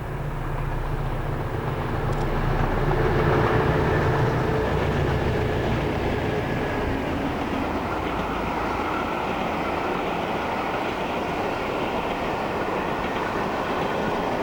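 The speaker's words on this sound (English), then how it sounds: "the two 73s and a 60 on the southern leg of the Weaving Weasel rail tour from Sheffield to Eastleigh." Two British Rail class 73 locomotives and a class 60 haul a rail tour between Sheffield and Eastleigh, a steady broadband roar and rumble of a passing train that stays loud and even throughout, with no voices.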